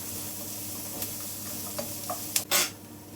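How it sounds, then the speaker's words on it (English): Onion frying over medium heat for a mango fish curry, a soft continuous sizzle broken by a few scattered utensil scrapes and a louder stirring scrape near the end. "Now onion. Medium heat, fry them about 3 to 4 minutes."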